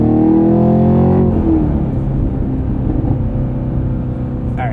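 A 2023 Chevrolet Camaro SS 1LE with a manual gearbox drives past, its V8 rising in pitch then dropping and settling into a steady low rumble, loud and close throughout.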